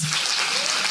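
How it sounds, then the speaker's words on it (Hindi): A dense, steady burst of clapping from a standing church congregation at a worship gathering, loud and close, lasting under a second with no voices. "खड़े होकर इन तालियों को जारी रखेंगे"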